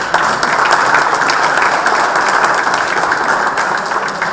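A crowd at a cricket league auction ceremony applauds steadily, a dense wash of many hands clapping at a constant level throughout.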